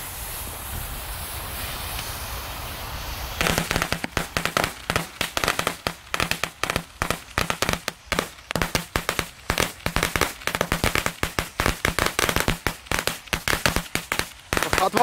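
Firecracker nitrate mat going off outdoors: a quiet hissing fuse gives way to a long, rapid string of sharp, loud cracking bangs in uneven bursts that keep going to the end.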